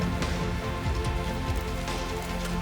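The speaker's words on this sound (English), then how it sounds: "And it's raining." Rain falls steadily on a hiking trail in the Scottish Highlands, a close, even patter of drops on surfaces throughout a brief moment.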